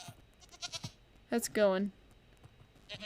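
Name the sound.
goats bleating in the video game Minecraft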